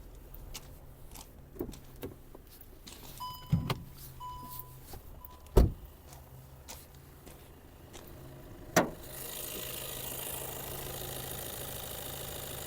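Inside a 2020 Skoda Octavia A8, a small electric motor whirs faintly amid scattered clicks and knocks, then a steady hiss of air or fan noise takes over.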